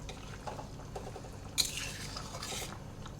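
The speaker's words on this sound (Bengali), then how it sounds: "এবার নাড়াচাড়া করে নামিয়ে নেব।" Curry being stirred in a pot makes faint, close scraping and rubbing with a brief metallic clink or two, and no one talks.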